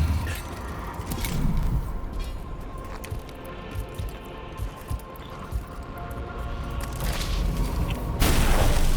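Weapon fire from units in the Warhammer 40k Mechanicus II video game: a run of muffled booms and thuds over a droning sci-fi score, with a louder burst at the end.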